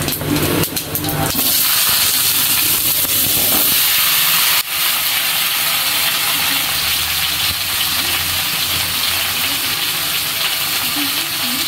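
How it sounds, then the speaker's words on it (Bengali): Cumin seeds dropped into hot oil left from frying fish in a home kitchen give a loud, steady sizzle and hiss that flares at the start and carries on evenly throughout. "তেলটা গরম হয়ে গেছে, আমি কয়েকটা জিরা দিয়ে দিই।"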